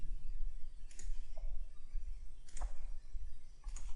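Computer mouse clicks while working in Autodesk Inventor CAD software: three soft, sharp clicks spaced about a second and a half apart, close up over a low steady background hum.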